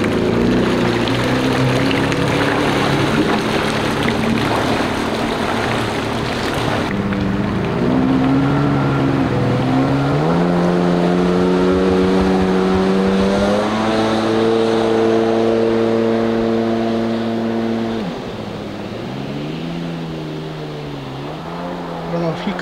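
A Yamaha GP800R personal watercraft engine at full throttle roars loudly and steadily, its pitch climbing and dipping as the revs change over spray and wind noise.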